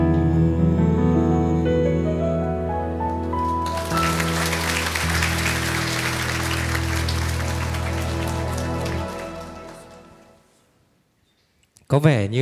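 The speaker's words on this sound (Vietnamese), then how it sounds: "bài hát với giọng hát ngọt ngào của chàng trai thứ hai thì khiến cho những cô gái vỗ tay lớn hơn" Applause from a live acoustic worship music audience bursts in after a song, a dense wash of clapping over fading guitar and voices, then tapering off into near silence before a brief sound at the end.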